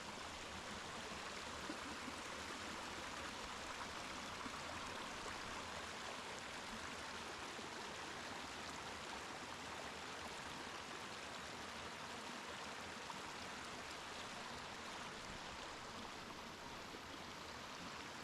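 A creek beside a rainy mountain trail near Rampart Ridge flows continuously, its steady rushing wash loud and close with no voices.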